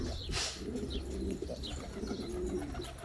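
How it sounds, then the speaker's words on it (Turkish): Pigeons kept by a Turkish fancier coo softly close by in a steady murmur, with a brief burst of wing flapping near the start and occasional chirps over constant low background noise. "Güvercinler de neşelenir. Onları uçurabiliriz inşallah."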